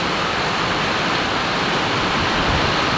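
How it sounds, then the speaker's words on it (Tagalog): Fast-flowing floodwater during Typhoon Carina, a steady loud rushing roar of water that fills the whole clip without pause. "Ayun ang bilis ng tubig."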